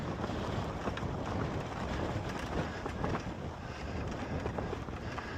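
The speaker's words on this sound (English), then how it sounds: "The wind was blowing about 60 miles an hour today." Steady roaring wind of about 60 miles an hour buffets the microphone on a mountain trail, a dense continuous rush with no pauses and no voices.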